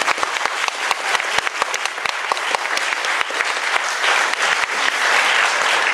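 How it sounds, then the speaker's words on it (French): A festival audience claps loudly and densely for a theatre troupe at an awards ceremony, a continuous wash of applause with sharp individual claps standing out. There is no speech. "vous pouvez les applaudir"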